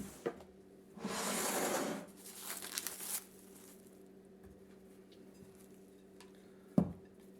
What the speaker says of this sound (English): dust the workspace with flour and scrape the dough out of the bowl